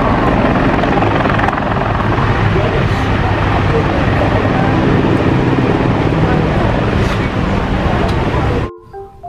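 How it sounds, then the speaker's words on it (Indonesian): A loud, steady helicopter rotor roar continues for most of the clip, then cuts off abruptly near the end. "di sini ada helikopter"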